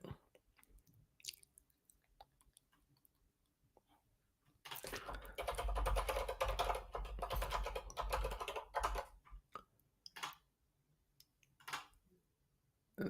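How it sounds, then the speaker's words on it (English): Fast typing on a computer keyboard fills a dense burst of a few seconds, framed before and after by sparse, quieter individual keystrokes at close range. "You get to listen to me typing"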